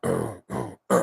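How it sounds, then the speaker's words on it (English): Three short, harsh throat bursts from a person coughing with allergies, close and fairly loud, each separated by brief silence. "I'm actually coughing because the allergies are bothering me just a little bit this afternoon."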